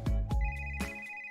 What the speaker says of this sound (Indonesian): Dia langsung mengambil telepon dan menekan angka itu.